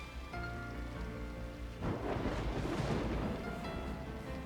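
Steady rain falls across a Punishing Gray Raven game scene, a constant hiss that swells heavier and louder after a couple of seconds, with faint thunder-like rumble underneath and no voices.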